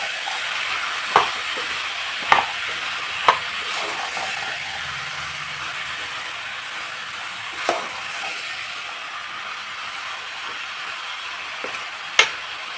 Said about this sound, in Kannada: ಈಗ ಎಲ್ಲ ಮಿಕ್ಸ್ ಮಾಡ್ಕೊಳ್ಳೋಣ.